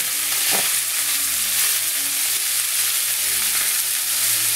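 Beef hits a pan of hot olive oil over medium-high heat and sizzles loudly and continuously up close, a dense hiss with faint crackles throughout and no talking.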